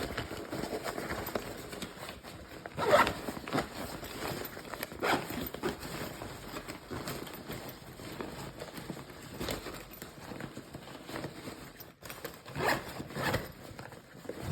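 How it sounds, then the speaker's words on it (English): Continuous rustling zipper sound as a ring is zipped around the zipper track inside an exhaust's air interface, with steady scraping and small clicks and a sharper snap partway through. "You will complete the ring, and then you will put it inside this air interface, at which time you begin zipping"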